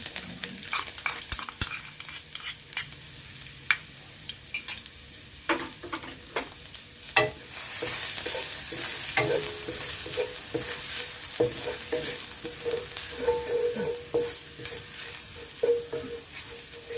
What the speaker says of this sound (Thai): แล้วตั้งกระทะใส่น้ำมัน เอากระเทียมลงไปผัดให้หอมก่อนค่ะ